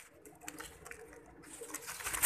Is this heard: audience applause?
no